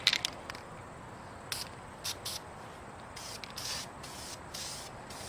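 Black spray paint hissing from a can onto a car valve cover in several short, separate bursts of moderate loudness, with quiet pauses between passes.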